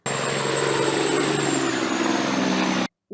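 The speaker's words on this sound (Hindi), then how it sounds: "ट्रक" A truck engine drones in a steady, even rumble, close and constant for about three seconds before cutting off abruptly.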